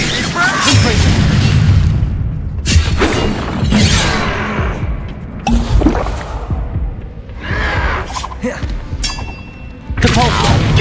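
Repeated Confringo fire-spell blasts in the Hogwarts Legacy video game, loud bursts and thuds recurring through the stretch with game voices and effects mixed in.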